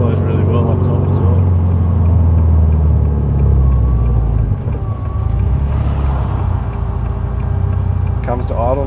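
A Subaru engine fitted with a new exhaust manifold settles toward idle, a steady low rumble running throughout with a slight dip partway, while people talk close by over it.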